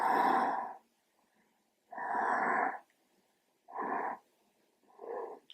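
Deep breathing in phases, four long, close breaths with quiet pauses between them, each a loud, rough, wheezy airflow.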